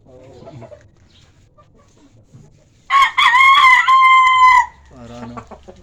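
Chickens being kept for sale: a rooster crows one long, loud cock-a-doodle-doo close by, while hens cluck softly before and after, with faint voices in the background.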